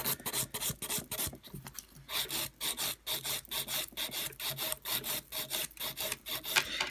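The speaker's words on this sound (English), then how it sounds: "And usually when I'm filing, I'm doing kind of a rounding motion with my hand." Hand file rasping on an acrylic nail, rapid rhythmic strokes in short bursts, close and fairly quiet, continuing steadily with no talk.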